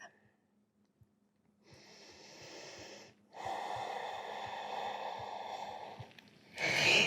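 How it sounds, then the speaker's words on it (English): Slow, deep breaths drawn in and let out through the nose during a beginner yoga session, each long breath steady and fairly close, with a sharper, louder exhale at the end. "A few more rounds of breath."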